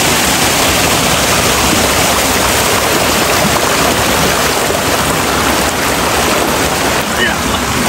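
Salvapet waterfall at Udayagiri pours down nearby as a loud, broad, unbroken rushing roar of falling water that fills the whole stretch without letting up.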